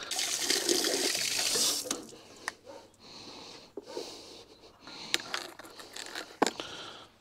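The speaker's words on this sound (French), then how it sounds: "Je vais ouvrir l'eau, mettre en route la pompe." Water rushing loudly as an abandoned swimming pool's pump is switched on, the flow strong at first, then fading to a quieter trickle with scattered knocks and clicks.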